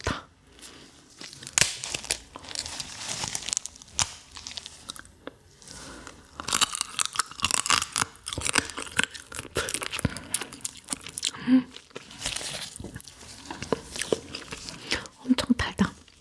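Tiger crab shell cracks and crunches loudly and close up while someone bites and chews it, in irregular bursts of brittle snapping, crinkling and tearing, with brief quiet pauses between mouthfuls.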